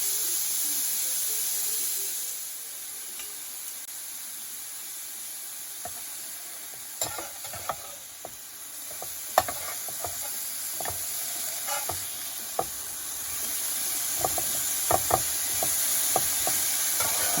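Steaks for Philly cheesesteak sizzle and fry steadily on a Ninja Foodi Pro XL grill at 400 degrees, a continuous hiss with scattered close clicks and scrapes as the meat is moved around.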